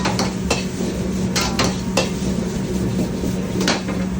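Rice stir-frying in a hot wok with sesame oil and butter, loud metallic scrapes and clanks of the spatula against the wok recurring every second or so over a continuous sizzle.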